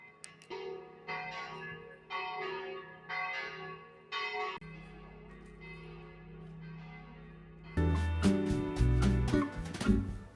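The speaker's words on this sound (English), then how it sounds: "And you can hear the church going off in the background over there." Church bells ring out across Dubrovnik's medieval old town, striking in repeated spaced peals that swell louder and fuller toward the end, heard alone without talk.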